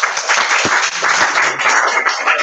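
Youth group clapping for the music, a short, steady round of close, lively handclaps from a small crowd lasting a couple of seconds.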